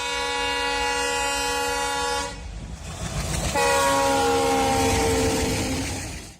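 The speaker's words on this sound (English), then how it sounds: "As the train's approaching you and it blows its whistle, you hear one note, one pitch." A passing train sounds its whistle in a sustained harmonic blast, breaks briefly, then blows again at a noticeably lower pitch as it goes by, loud and close before fading out.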